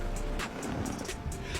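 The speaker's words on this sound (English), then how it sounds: "The Captiva, without stopping, continues to drive to the second part of the obstacle." A Chevrolet Captiva drives through a snowy obstacle with a steady engine drone and crunching, swishing bursts of snow under the tyres, close and continuous.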